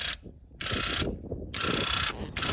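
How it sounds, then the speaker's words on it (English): A paint spray gun coats a wooden farm stand in short bursts of loud, steady hissing, with the spray switched on and off several times in quick succession. "We're gonna use a spray gun."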